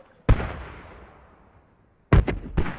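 Mortar fire in the video game Squad: a sharp nearby blast that fades into a long rumbling decay, then after a short pause a quick cluster of two or three more impacts, with no talk over them.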